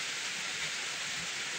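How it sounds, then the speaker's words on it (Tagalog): Steady rain hisses in a dense, even wash of falling water, with no pauses. "Umulan na naman dito sa amin."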